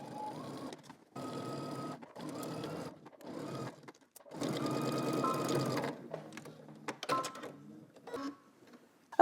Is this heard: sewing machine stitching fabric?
yes